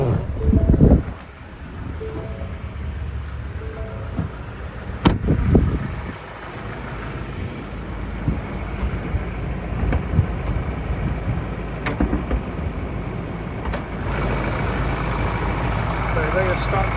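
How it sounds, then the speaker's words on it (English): A 2022 Ford Ranger Wildtrak 2.0 4x4 idles with its hood open, a low steady engine hum partly masked by wind buffeting on the microphone and a few thumps and clicks nearby. "And then while the car's running, we'll pop that hood for you too and have a look under there."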